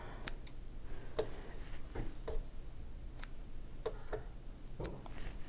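Scissors snip loose thread ends at the corners of a quilt before binding, a handful of short, crisp clicks spaced irregularly over a soft steady background, close and fairly quiet.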